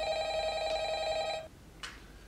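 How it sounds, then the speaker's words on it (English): A telephone rings with a steady electronic bell tone that runs for about a second and a half and then stops, followed by a brief faint click. "Sorry, hold on, my phone's ringing."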